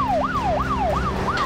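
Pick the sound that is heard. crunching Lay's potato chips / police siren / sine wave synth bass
police siren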